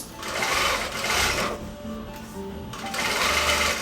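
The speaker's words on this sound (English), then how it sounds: "Then you can just sew straight across." A sewing machine stitching straight across the waistband of a pair of bloomers, running in close, loud bursts of rapid mechanical chatter separated by short pauses, with no one talking.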